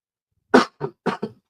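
A person coughing four times in quick succession, close and loud, in two pairs of sharp bursts separated by silence.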